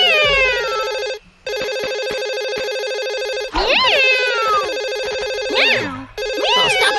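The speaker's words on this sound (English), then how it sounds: "I can hear the phone." A cartoon telephone rings insistently in a loud, bright electronic trill, repeating in long bursts with brief gaps, while cartoony sliding whistle-like effects sweep across it.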